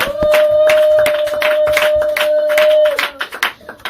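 A church congregation claps to acclaim the word of God, with a quick run of near, overlapping hand claps over a sustained sung or held tone. The clapping thins into scattered claps at the end.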